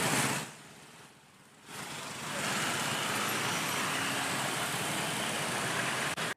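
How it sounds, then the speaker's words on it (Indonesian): Dozens of motorcycles caught in a morning jam on a Transjakarta busway make a dense, steady roar of idling and creeping engines. The roar dips briefly near the start, then holds loud and even. "Puluhan pengendara motor terjebak macet di jalur bus Transjakarta"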